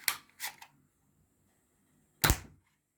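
Toy Nerf foam dart blaster fired at targets set up indoors, giving two quick sharp snaps close together followed by a third louder pop about two seconds later, with quiet in between.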